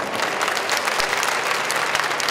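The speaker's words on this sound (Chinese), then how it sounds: "是不是大家来鼓掌一下好不好？" An audience at a city government event about a marathon earning a World Athletics gold label applauds steadily, with dense continuous clapping from a large crowd filling the room.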